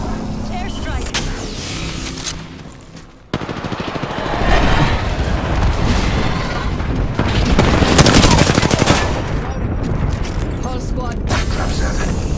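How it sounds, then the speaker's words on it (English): Video game airstrike, with booming explosions and bursts of rapid gunfire, loud and dense over a noisy battle background, with game voices calling out in the mix. "Airstrike!"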